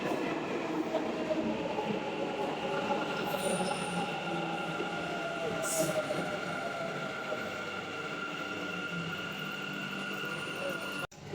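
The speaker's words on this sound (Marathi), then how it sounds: "फायनली मेट्रो आली." A metro train pulls into a station: a loud, continuous rumble with wheel squeal and rail noise filling the whole stretch, close by, ending abruptly.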